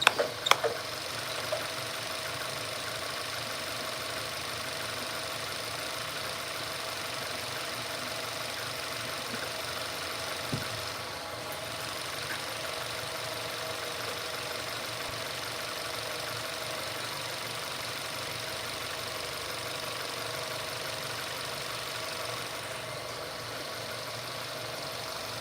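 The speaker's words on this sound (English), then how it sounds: "Engine is nice and quiet." A 2009 Volkswagen Golf engine idles steadily and evenly, close by, with a constant broadband hum and no rev changes. Apart from a small click near the start, the sound stays unbroken for the whole stretch.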